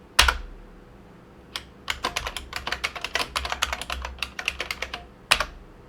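Rapid, irregular clacking of computer keys, a burst of keystrokes with a couple of sharper isolated taps at the start and end, close and fairly quiet.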